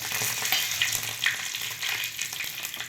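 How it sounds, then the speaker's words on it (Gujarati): Cumin, mustard seeds, cinnamon, cloves and curry leaves sizzle in hot ghee, a steady close crackling hiss with small pops, loud and continuous without talk. "તો આપણે હવે જીરું એડ કરી દેવાનું રઈ એડ કરી દેવાની આ તજ લવિંગ અને લીમડાનું પાન છે એ એડ કરી દઈશું"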